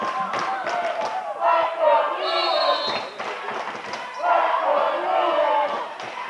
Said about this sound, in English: crowd trying to battle each other as well with the cheers for their team